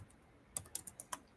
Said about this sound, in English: Let me peck at these keyboards really fast.